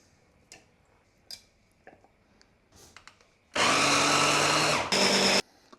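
A kitchen blender whirs at full power through cooked wild fennel in two bursts, a loud run of about a second and a half followed by a shorter one, preceded by a few quiet clicks and taps.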